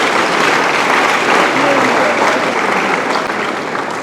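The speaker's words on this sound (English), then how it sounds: "Clap for yourself." A seminar audience claps loudly and continuously, a dense, even wash of many hands throughout with no break.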